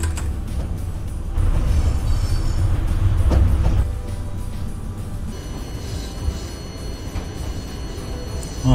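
Locomotive running in the MaSzyna train simulator game, a steady rumbling rail drone with wheel and track noise that swells midway and then settles, loud and continuous with no talking.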